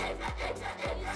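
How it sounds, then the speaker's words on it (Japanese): Hand file working over a curved metal ring, producing rhythmic rasping strokes, roughly two back-and-forth passes, close and steady with no talk. "5本組の先細ヤスリチユーメを使って全体をならすようにヤスります"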